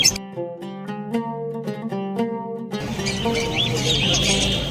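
Birds calling at the Dakshineswar bird market in Kolkata, with a clear repeated tonal chirping phrase up close, then a denser wash of overlapping chirps and squawks from many birds.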